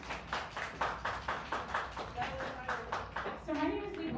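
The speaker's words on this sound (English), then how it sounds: "give yourselves a round of applause for being here" Clapping from a small audience at a live climate policy talk in a bar, with a regular pattern of claps under a speaking voice, fairly faint and thin rather than a full ovation.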